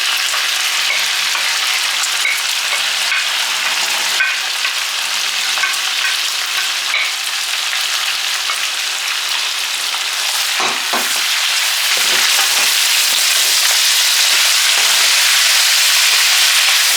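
Sauce poured into a hot frying pan sizzles and crackles steadily and loudly for the whole stretch, with bursts of stirring and spattering toward the end during a home cooking session of tender meat.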